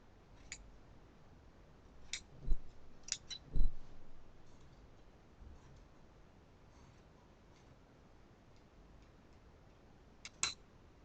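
Scissors snip off excess fabric while a ladies' back pattern is draped on a dress stand. Sparse, close clicks and snips sound at irregular intervals against a quiet room, with a few louder cuts near the start and one more at the end.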